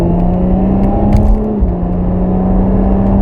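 A Subaru Impreza hatchback drives past with a steady engine whir and road noise, fairly loud and close throughout, with a slight dip midway as it goes by.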